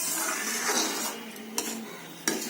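A spoon stirs mango kheer in a pot, with soft continuous scraping and two sharp metallic clinks against the rim, close and alone.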